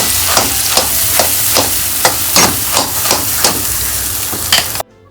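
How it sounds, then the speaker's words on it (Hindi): Carom seeds and nigella seeds crackle in hot oil as a tempering. Sharp pops burst at an even rhythm over a continuous close sizzle, then cut off abruptly at the end. "थोड़ा सा अजवाइन और कलौंजी का पहले इसमें फोड़न दे देंगे"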